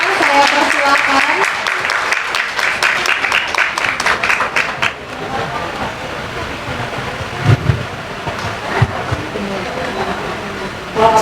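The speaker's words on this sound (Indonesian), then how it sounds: "Mungkin bisa diberikan tepuk tangan yang lebih meriah lagi Kepada Mbak Amanda" An audience at a marketing discussion event in Malang claps for a speaker coming on stage, with dense, sustained applause that thins out midway and rough, noisy crowd ambience beneath.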